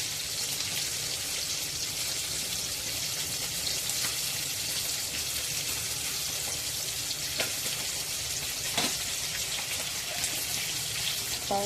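Kharba fish shallow-fried in a pan, Agri style, crackle with a dense, even spitting sizzle throughout, broken by a few light taps as the pieces are gently turned.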